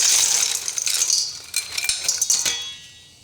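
Ice cubes tumbling into a bowl for cooling boiled tea eggs, a loud close rattle of clinks and clatters that settles into a few separate knocks before fading out.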